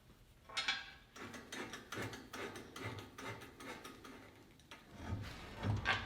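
A bolt on the rail of a SawStop 3 HP industrial cabinet saw is turned with a ratcheting tool, giving a quiet, close series of rapid mechanical clicks in irregular bursts with short pauses between strokes.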